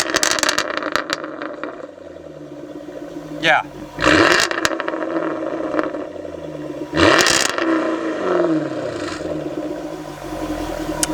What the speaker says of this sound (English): That's a factory exhaust system that'll set off a car alarm.